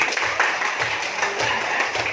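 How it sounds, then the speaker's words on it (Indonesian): Applause from a class of students in an Islamic junior high classroom, a dense, steady patter of many hands clapping together at a close distance for a couple of seconds. "Beri tepuk tangan."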